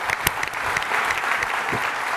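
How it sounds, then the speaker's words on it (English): Audience applause at a political party leadership debate, a short burst of clapping from a crowd with a few sharp individual claps standing out near the start. "let's give Jeff a round of applause"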